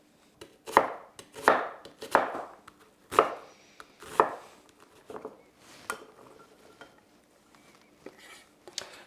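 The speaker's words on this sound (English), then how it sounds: "We need to roughly chop one onion." A knife roughly chopping an onion on a board, about half a dozen firm, evenly spaced cuts up close, then lighter, scattered taps as the chopping slows.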